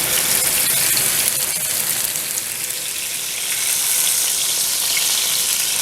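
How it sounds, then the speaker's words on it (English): London broil beef searing in olive oil in a hot pan, a steady, close, loud sizzle and crackle of frying that runs unbroken throughout, with no one talking. "I'm going to place my meat in it and just sear it on each side"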